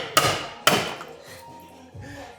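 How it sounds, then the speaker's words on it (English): A chisel hammered into thick Bondo on a car quarter panel lands two sharp, close strikes about half a second apart, followed by fainter scraping knocks. "So I want to go ahead and start chiseling this away."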